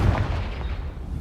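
Confringo spell from a Hogwarts video game, a single heavy booming blast close by that rumbles low and fades over about a second, with no voices.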